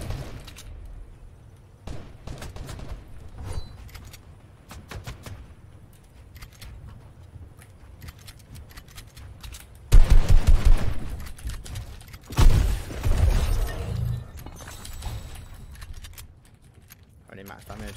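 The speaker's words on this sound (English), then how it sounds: "Where did I just get shot from as well?" Gunfire in the Fortnite video game comes as scattered bursts of shots, with a louder volley near the middle and another shortly after, mixed with keyboard and mouse clicking and a player talking.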